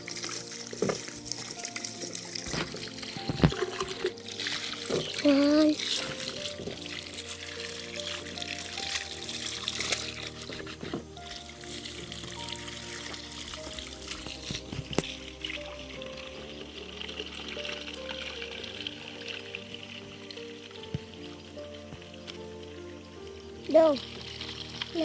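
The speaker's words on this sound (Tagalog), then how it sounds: "Lakas ng tubig mga kababayan." A strong flow of drinkable water being collected outdoors, a steady rushing pour running throughout, with intermittent voices talking close by.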